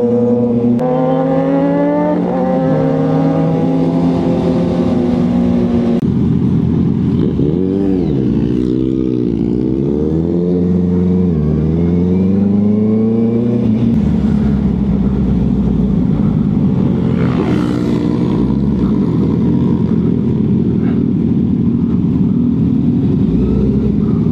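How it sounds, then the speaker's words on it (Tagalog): An inline-four motorcycle engine revs up and down repeatedly, loud and close, its pitch rising and falling over a steady throaty idle. "Yung ingay ng motor"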